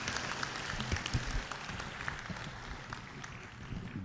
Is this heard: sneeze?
no